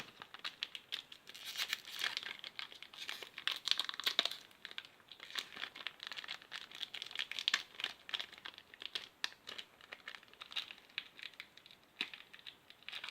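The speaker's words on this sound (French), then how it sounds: "vous entendez le bruit de papier de merde que j'arrive pas à ouvrir?" Crinkly paper wrapper of a trading card booster pack being struggled with and torn open, a continuous close crackling and crumpling with sharp tearing spikes throughout.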